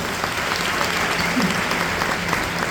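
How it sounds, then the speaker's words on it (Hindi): Steady, dense clapping from a crowd at a DXN motivational meeting in India, a loud unbroken roar of hands with no break. "एक जोरदार ताली होना चाहिए।"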